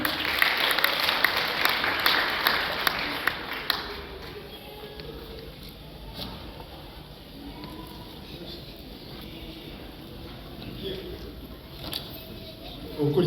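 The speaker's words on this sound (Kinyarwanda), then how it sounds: "amashyi ku mana yacu" A church congregation bursts into applause that lasts a few seconds, then fades into a quieter room with faint murmurs and scattered small noises.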